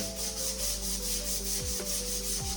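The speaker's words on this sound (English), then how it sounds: "Just start wet sanding basically." Steady, close wet sanding of a rusty draw knife coated in WD-40, a continuous gritty hiss of abrasive against metal with a faint low hum underneath.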